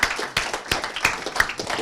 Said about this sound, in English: give them a round of applause for doing the great work